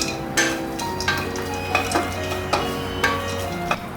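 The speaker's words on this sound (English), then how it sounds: "Next, I'll add the nuts and roast them too" Nuts roast in hot oil with curry leaves and green chili for a healthy snack, a steady close sizzle broken by about seven light scrapes and clinks of a stirring spoon against the pan.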